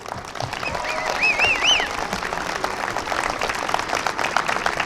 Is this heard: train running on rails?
no